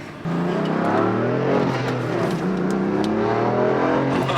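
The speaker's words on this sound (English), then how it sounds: "those air intakes sound so good" A 6-speed BMW M4 engine hums and whooshes steadily through its air intakes while cruising in eco mode, a continuous throaty drone from inside the car.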